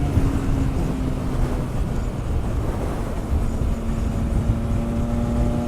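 A 2019 Triumph Speed Triple RS motorcycle is ridden, its engine a steady loud drone under heavy wind roar, with a rising and falling engine tone.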